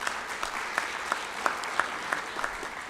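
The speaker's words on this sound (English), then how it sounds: "give her a nice round of applause" Clapping rings out at a sports hall of fame induction ceremony, crisp, evenly spaced claps about three per second, sounding like a modest audience rather than a roaring crowd.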